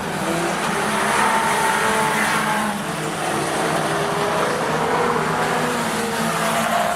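Fender Bender race cars lapping at Rockhampton Speedway, a continuous loud roar of several engines passing with rising and falling pitch, no voices.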